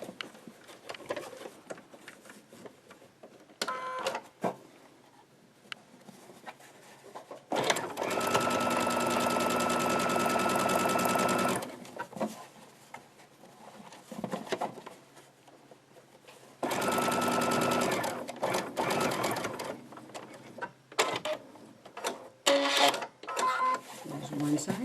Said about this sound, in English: let's take them back to the machine and do our last 2 stitches